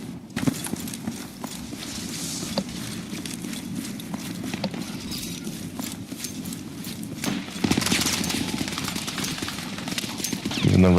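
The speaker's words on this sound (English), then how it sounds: "Yes, I can control the sound of my footsteps." Rapid footsteps of a player character in the video game Battlefield 6 on an icy map, a continuous quick clip-clop rhythm of steps running for several seconds, loud and close, with gunfire-like bursts near the end.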